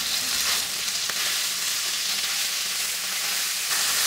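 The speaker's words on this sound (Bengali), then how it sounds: "মাছটাকে কিন্তু চারদিক মিলে সমানভাবে ভেজে নিতে হবে যাতে মাছটা সিদ্ধ হয়" Pieces of rohu fish frying in oil in a pan, with a loud, continuous close sizzle and hiss that stays steady throughout and carries no voices.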